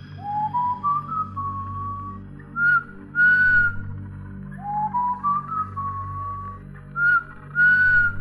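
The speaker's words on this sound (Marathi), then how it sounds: "माझ्या प्रत्येक शिट्टीला विशाल उत्तर देत होता." Two people exchanging whistles on a dark night road in a Marathi horror audio drama: rising and long steady whistles answer each other in turns over a low ambient hum, no speech.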